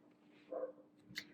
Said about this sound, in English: if you guys kind of hear something background, yeah, it's not me. It's just dogs and cats.